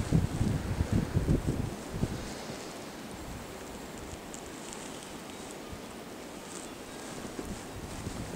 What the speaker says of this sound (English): The wind is still blowing pretty good.